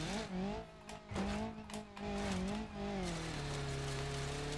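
A BeamNG.drive car's engine drones with a sliding, uneven pitch as the transmission hesitates and slowly downshifts, joined by brief tire squeals, loud and continuous with no speech.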